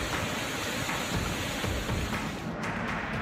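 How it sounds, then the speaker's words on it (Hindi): Dense, steady rush of heavy monsoon rain pouring down in India, a continuous broadband hiss with no voices. "मूसलाधार बारिश, पनिया पर"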